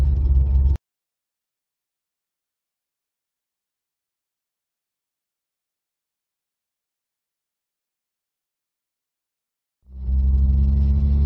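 A 1983 Austin Metro 1.3 engine rumbles briefly, then drops to dead silence for several seconds before the steady engine drone returns.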